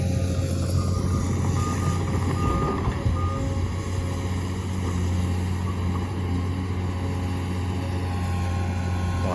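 A heavy earthmoving machine, likely a truck-type vehicle, works at a farm site with a steady loud diesel engine drone and repeated reversing beeps running throughout.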